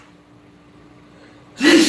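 A single loud, close sneeze bursts out at the very end after a quiet stretch.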